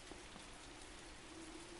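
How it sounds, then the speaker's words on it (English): Steady rain falling through a skylight in the Resident Evil 2 video game, a dense continuous patter of drops heard alone at a soft level throughout. "Oh, that's a skylight. I never knew that. And the rain coming through?"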